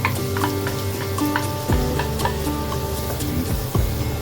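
Onion frying for fried rice in a pan, a steady close sizzle with stirring scrapes and a few metallic knocks, over a continuous humming background tone.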